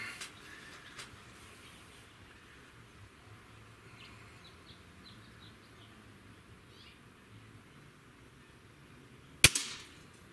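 A single sharp crack of a Weihrauch HW97 air rifle firing near the end, short and loud against a quiet outdoor background with faint bird chirps and insect buzz.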